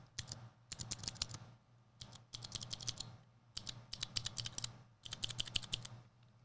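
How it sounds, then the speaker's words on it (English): Clicky Cherry MX Blue switches on a custom mechanical keyboard, typed in three quick bursts of crisp, sharp clacks separated by short pauses, close and fairly quiet, with no talk. "So a clicky switch, we normally associate these with typing."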